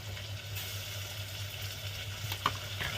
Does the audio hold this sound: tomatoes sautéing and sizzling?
yes